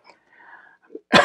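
A single short, harsh cough bursts out at the end after a few faint, quiet sounds.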